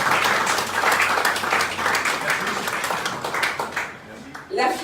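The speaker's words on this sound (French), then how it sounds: "en la personne d'Henri Dinard, que je vous demande d'applaudir" Audience applause for a newly named treasurer at a political meeting, a dense steady round of clapping from a crowd that tapers off near the end as a voice begins.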